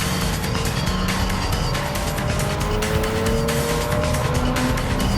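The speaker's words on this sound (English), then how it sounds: "She's definitely pushing that RX-7 to get there." A Mazda RX-7 race car in a racing video game, engine pushed hard with a loud, sustained high-revving drone and tire squeal throughout, no pauses or voices.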